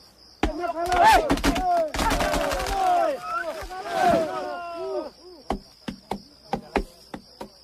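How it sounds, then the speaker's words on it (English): Stone axes chop firewood for a feast fire among Maasai men in Kenya: sharp, evenly spaced blows ring out near and loud, first under excited chanting and voices, then on their own. "They cut wood for the fire using their stone axes."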